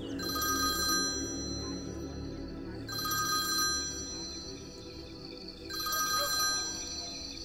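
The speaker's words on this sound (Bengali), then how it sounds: "ফোনটা হঠাৎই বেজে উঠল।" A telephone rings in three separate bursts with pauses between them, a bright trilling bell set against a quiet room.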